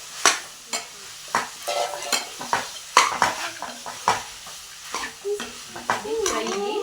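Spoonfuls of soft mutton curry are stirred and fried in a pan, with repeated close metallic scrapes of a spoon against the pan in an uneven rhythm over a low sizzle, and a voice speaking briefly toward the end.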